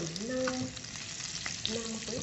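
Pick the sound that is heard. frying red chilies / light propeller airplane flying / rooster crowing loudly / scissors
frying red chilies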